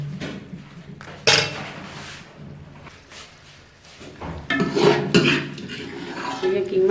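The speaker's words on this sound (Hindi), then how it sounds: "ये कीमा जो मैंने इसके अंदर डाल दिया है, इसे अच्छी तरह हिलाएंगे" Mince being stirred into fried cluster beans (gawar phali) in a pot: a spoon clanks and scrapes against the metal in irregular strokes, close up, with louder knocks near the end and faint background murmur.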